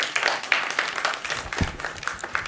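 An audience at a launch event for an election broadcast guideline claps to acknowledge committee members, giving a brief, moderately loud round of applause with scattered individual claps.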